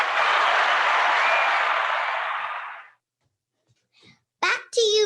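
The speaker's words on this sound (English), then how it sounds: "And the crowd goes wild." A crowd cheers and applauds in a dense, bright burst for about three seconds, then fades to silence. Brief voices follow at the end.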